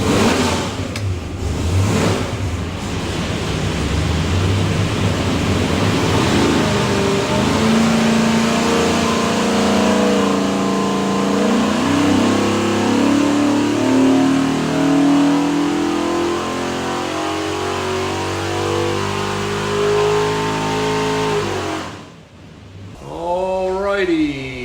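A 427ci small block Ford V8 with a custom-grind hydraulic roller cam revs hard on an engine dyno, climbing loudly and steadily through a long pull before cutting off abruptly.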